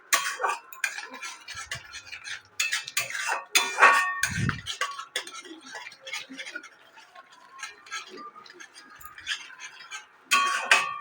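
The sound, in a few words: stirring fish curry spices in a pan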